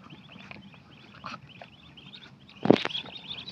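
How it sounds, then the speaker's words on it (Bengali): Chinese ducks call with soft, scattered quacks at an early morning feeding, followed by one louder, nearer honking quack toward the end. "আর এই যে এইটা আর ওই পিছেরটা হইলো পুরুষ চীনা হাঁস।"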